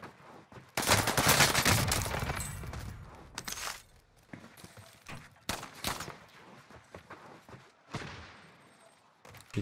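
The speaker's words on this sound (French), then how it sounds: "Mais qui me tire dessus là?" Video game gunfire aims at the player in a dense opening fusillade of rapid bursts, then thins into scattered sharp shots and short volleys, with footsteps shuffling between them.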